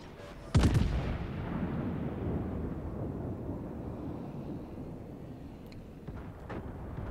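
Heavy naval gunfire from the battleship Missouri in World of Warships: one sharp, loud salvo boom near the start that rolls into a long rumbling decay, with fainter distant blasts later on.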